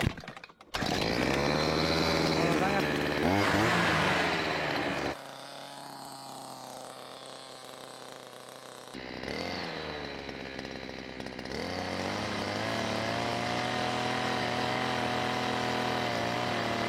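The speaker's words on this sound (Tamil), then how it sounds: "இன்ஜின் அப்படியே ஸ்டார்ட் பண்ணிடுவோம்." A small boat's engine, on an inflatable craft with a propeller, catches after a brief start and runs loud and buzzing, its pitch dropping, then rising and settling into a steady drone.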